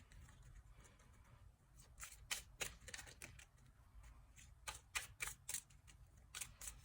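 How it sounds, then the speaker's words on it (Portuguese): Lenormand fortune-telling cards being dealt one by one into a small pile on a table, soft irregular flicks and snaps in small clusters, faint and close over low background hum, with no talking. "Então, para cada 4 cartas para este montinho."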